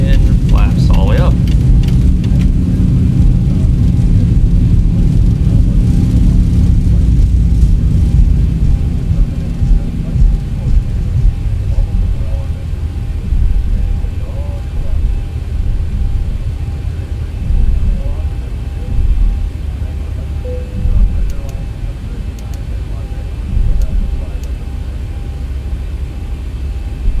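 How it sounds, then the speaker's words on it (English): Landing rollout of a Boeing 737-800 in the X-Plane 12 flight simulator, with loud roaring thrust reversers that wind down after about ten seconds into a steady lower rumble, a person speaking over it. "80 knots. Sub reversers, spoilers coming in, and flaps all the way up."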